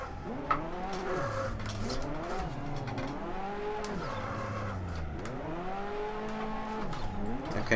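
A car drifting through a corner in Assetto Corsa, its engine revving loudly and continuously in sweeping rises and falls as the throttle is worked, with faint tire squeal underneath.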